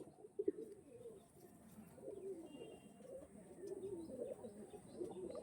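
Pigeons of an old bloodline kept for sale, softly cooing in repeated low throaty phrases close by, with a couple of faint chirps early on.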